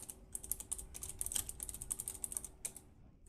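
Fingers tap quickly on a computer keyboard, a close, crisp run of clicking keystrokes in irregular bursts with a brief pause near the end and no voices.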